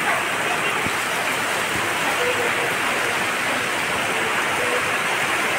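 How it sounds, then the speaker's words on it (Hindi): Heavy rain pours steadily in daytime gloom, a dense, loud hiss with no breaks, with occasional faint thuds of drops on nearby surfaces. "देखिए कितना तेजी से बारिश हो रहा है और दिन में ही अंधेरा हो गया है।"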